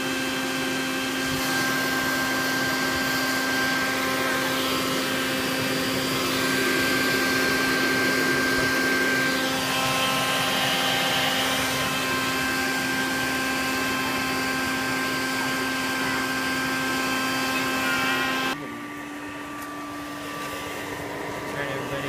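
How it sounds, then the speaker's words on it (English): A hairdryer forces air into a homemade aluminum foundry, making a loud, steady whooshing roar with a constant hum. The blast holds for about eighteen seconds, then drops to a quieter, thinner rush. "All this using a hairdryer."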